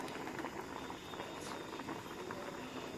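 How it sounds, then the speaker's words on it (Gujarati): Water boiling in a covered pot while a Kathiyawadi varaliyu is cooked, giving a quiet, continuous bubbling simmer with soft irregular pops, close by and alone. "આપણું પાણી જો ઉકળે ની અવાજ પણ આવે છે."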